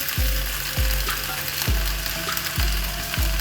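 Ivy gourd (kovakka) sizzles steadily as it fries in a pan, with a spatula knocking rhythmically against the pan about five times, near and fairly loud throughout.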